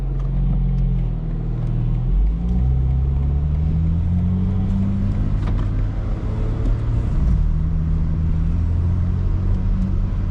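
A 2025 BMW M4 CS fitted with an aftermarket exhaust drives off, its deep engine rumble loud and close from inside the car, the low drone shifting pitch as it accelerates and changes gear, with no talk.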